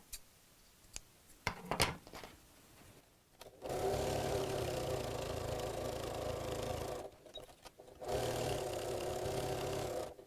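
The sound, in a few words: sewing machine top stitching clutch flap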